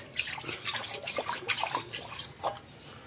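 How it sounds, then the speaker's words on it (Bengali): Water in a fish tank treated with potassium permanganate is gently stirred by hand, giving soft splashes and trickling drips in an irregular rhythm, close and moderately quiet, with no talking. "পানিটা হালকা নাড়াই দেবো পুরো হাউসটা"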